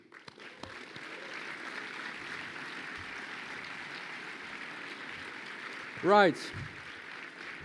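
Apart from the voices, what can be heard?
applause at a graduation ceremony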